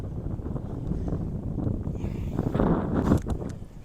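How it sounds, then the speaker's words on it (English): Strong outdoor wind buffets a microphone beside a 1980 Pontiac Firebird under repair, a rumbling low roar that swells and gusts harder toward the end, with faint handling noises. "Wind's about to take my camera over"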